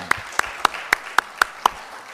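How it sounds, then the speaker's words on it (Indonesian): Seven sharp, evenly spaced hand claps ring out in a parliamentary hearing room, each one distinct and fairly close with quiet gaps between. "Ini kasih aplaus khusus nih, Jakarta Timur."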